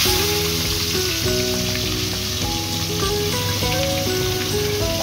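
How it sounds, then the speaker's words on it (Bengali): Onions frying in hot oil with cardamom pieces, cinnamon sticks and cloves, giving a steady loud sizzle like rain throughout, with no talking and faint tones ringing through. "ততক্ষণ পেঁয়াজটা ভাজতে থাকুক"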